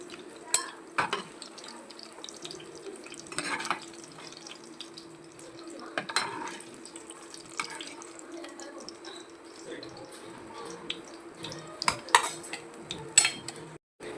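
Fried brinjal is scooped out of hot oil in a kadai, with scattered metal clinks of a ladle against the pan over a faint steady sizzle, close and fairly quiet.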